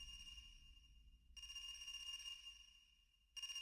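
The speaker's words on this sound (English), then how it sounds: "Is that... a phone ringing?" A telephone rings in the video game AI: The Somnium Files in repeated electronic bursts with short gaps between them, fairly quiet and clear, with no talking over it.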